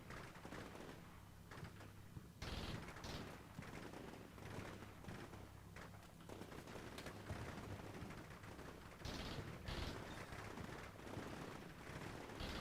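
Distant, scattered gunfire in the modern warfare game Combat Mission: Shock Force 2 crackles in irregular shots and short bursts over a dense, noisy battlefield ambience, with birds chirping faintly.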